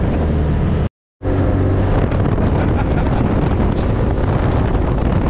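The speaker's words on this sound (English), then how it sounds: "They're not going to hear us with this damn wind, dude." Heavy wind roaring over the microphone on a moving 2021 Polaris RZR Turbo S Dynamix UTV, a loud, constant broadband rush with low engine rumble beneath and a brief dropout near the start.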